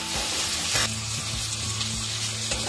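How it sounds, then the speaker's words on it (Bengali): Marinated crab pieces frying in hot oil in a karahi for a spicy Bengali crab curry, a soft steady sizzle with a few faint knocks and stirring sounds. "কাঁকড়াগুলো ম্যারিনেট করা কাঁকড়া তেলে দিয়ে দিয়েছি আমি 5 মিনিট একটু ভেজে নেব।"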